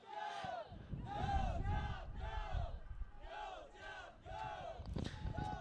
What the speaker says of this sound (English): And cheering on the Diable is the Quebec parents here.